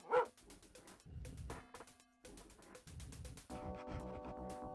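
Dog barks and yelps from dog mode in the DOS game Rise of the Triad, played on real 1994-era hardware under Windows 98; a loud opening bark is followed by repeated yips over game music and effects.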